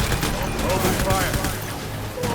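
Rapid gunfire in the video game Death Stranding, a busy spray of shots and impacts packed close together throughout a brief burst, with a voice talking over it.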